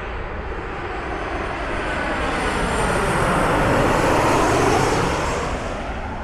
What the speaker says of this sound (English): This is a Boeing 737-8MG.